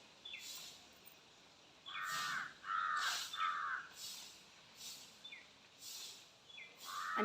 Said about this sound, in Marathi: तुमकां कावळ्याचो आवाज येता आसतलो न्हू